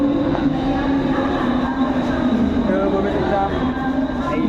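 A train runs at CSMT station in Mumbai, a steady loud rumble filling the scene throughout, with faint crowd noise beneath it.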